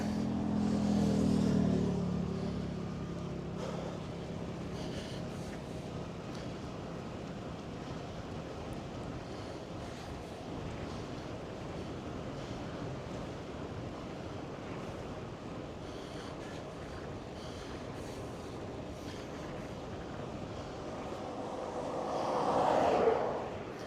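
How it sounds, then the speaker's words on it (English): Headwind buffeting a microphone while riding an ebike, a constant rushing roar of wind noise for about twenty seconds, louder gusts at the start and near the end, no talk. "If it wasn't for the headwind, I could probably go a little faster."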